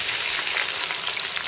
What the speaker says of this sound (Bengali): পেঁয়াজ কুচিটাকে হালকা বাদামি কালার করে ভেজে নিতে হবে